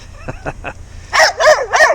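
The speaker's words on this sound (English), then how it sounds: "There you go, you mad dogs." Several dogs bark in quick succession, loud and close, after a few softer yips at the start.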